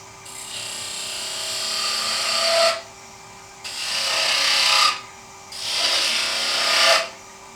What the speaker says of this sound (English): I'm going to switch to spindle gouge just to get a little bit of finer cutting going on.